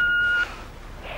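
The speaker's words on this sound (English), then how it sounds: "please leave a message at the beep" A single steady electronic answering-machine beep sounds clearly for about half a second at the start, then cuts off into quiet room tone.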